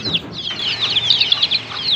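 Free-ranging desi hens cluck and chirp close by as they drink water after laying, a quick run of high, bright calls with no voices.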